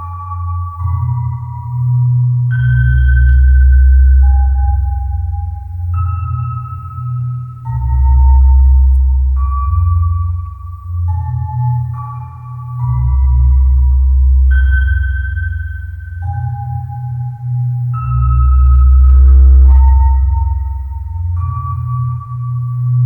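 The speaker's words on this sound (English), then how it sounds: "Let's see how these 2 tracks sound together now in the song editor" Two synthesized parts play together: a booming low bass line pulsing in long notes under a simple higher melody of short tones.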